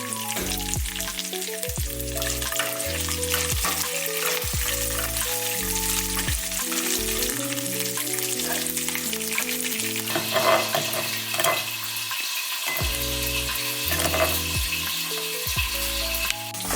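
Curry leaves and garlic sizzle and crackle in hot oil for a tomato chutney, a dense steady frying hiss throughout with background music playing over it.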